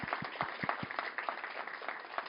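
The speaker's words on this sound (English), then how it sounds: "Please give them a round of applause." Applause from an audience at a talk featuring Swartland wine producers, a steady wash of clapping with a few louder nearby hand claps standing out, moderately quiet and continuous throughout.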